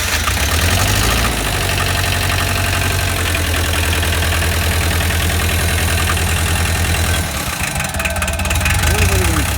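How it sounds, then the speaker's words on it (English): Diesel engine with glow plugs cranking and catching, then running at a steady rough idle with a slight exhaust leak, loud and close, with people talking over it. "Start her up."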